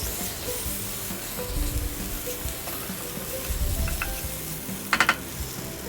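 Chopped tomato frying with onion masala in oil for a ladies finger masala, heard as a faint, steady sizzle with a few soft stirs and a brief metallic clink near the end, no talking.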